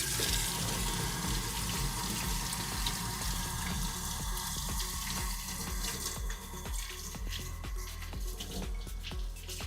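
Water runs steadily from a kitchen tap over roughly chopped vegetables being rinsed, a continuous close hiss and splatter with small knocks and clatters of the vegetables and sink, and no talking over it.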